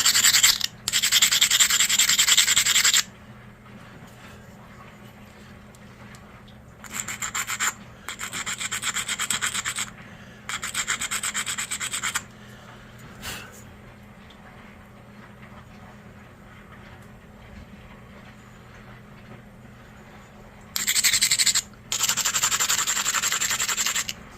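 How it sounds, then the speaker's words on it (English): Loud abrasive grinding comes in several separate bursts as the base of a flintknapped stone turkey-tail point is ground down, with quieter scraping and handling between the strokes. "grind the delta down"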